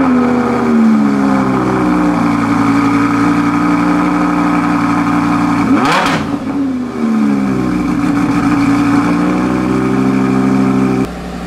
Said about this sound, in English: So it's not crazy loud on a cold start